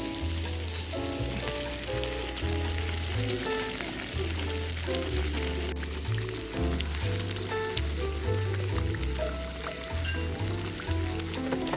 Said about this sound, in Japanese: ぐつぐつ煮え立ってます。